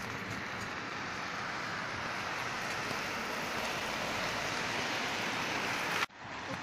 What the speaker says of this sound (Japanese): うわー超雨強くなってきたけど